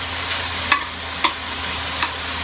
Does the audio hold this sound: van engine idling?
no